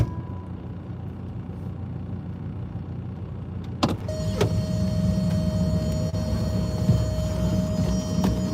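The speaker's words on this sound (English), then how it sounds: "Oh, there's an old Ford truck going by." An old Ford truck drives by at a spring rod run in Pigeon Forge, Tennessee, with a steady low engine rumble that thickens after a sharp knock and settles into a sustained droning hum.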